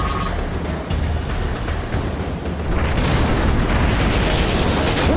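A loud, sustained burst of explosive impact noise from an attack in the Pokémon Battle Revolution video game, rumbling and crackling and swelling stronger partway through, with no talking.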